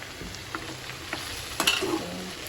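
A hot tadka tempering added to a vegetable curry, a soft sizzle with light stirring clicks and a brief louder burst midway, fairly quiet and without talk.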